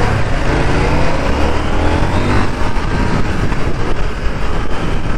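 A KTM 890 R motorcycle engine pulls hard in second gear, a loud, dense, continuous roar with wind rush, sustained close-up without pauses.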